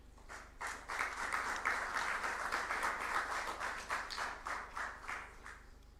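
An audience at a formal judiciary annual report address breaks into applause, a sustained patter of many hands clapping at moderate distance, swelling and then easing slightly.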